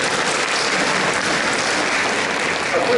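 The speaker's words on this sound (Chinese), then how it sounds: "我们掌声欢迎" Sustained applause from a school audience welcoming a volunteer choir at an English performance contest, steady and dense throughout with no pauses.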